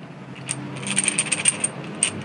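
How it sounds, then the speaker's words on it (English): Metal screws drop into a mixture of oxalic acid and soap, giving a quick run of bright, close clinks and rattles that settles within a couple of seconds. "I put all the screws in this mixture of oxalic acid and soap"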